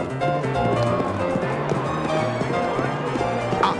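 Galloping horse hooves from a horse race in a Slovak children's audiobook story beat in a rapid, steady clip-clop rhythm under loud background music.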